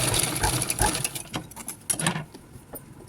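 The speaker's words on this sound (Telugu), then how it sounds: "నేనైతే ఇంకో స్టిచ్ వేస్తున్నాను, సేమ్ కలర్ దాని కాబట్టి అందులో కనిపించదు." A sewing machine runs in quick rattling bursts while stitching piping onto a blouse back neck, the mechanical whir close and steady at first, then breaking into shorter, sparser runs with pauses.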